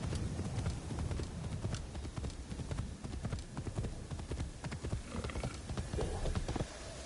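Horse hooves clip-clop in a steady, busy rhythm in Assassin's Creed Shadows, fairly close and continuous over a dense game soundscape, with occasional creaks.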